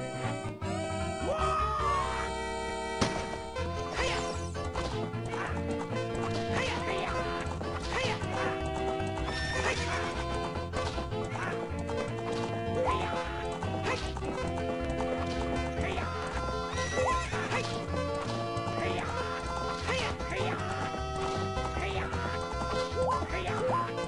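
A horse neighs loudly over hooves clip-clopping at a gallop in The Legend of Zelda: Ocarina of Time, set against continuous music throughout.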